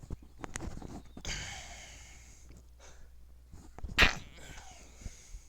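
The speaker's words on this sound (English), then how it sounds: "had to sneeze" A single sharp human sneeze bursts out near the end, preceded by quieter breathing and sniffing sounds, heard on a disc golf course in quiet outdoor surroundings.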